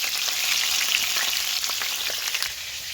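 Potatoes fry in a cauldron with a dense, bright, close sizzle and scattered small pops, steady and unbroken.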